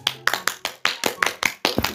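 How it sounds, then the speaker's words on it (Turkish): Eight sharp hand claps land in a steady rhythm, close and fairly loud, with a faint steady hum underneath and no voices. "Alkış."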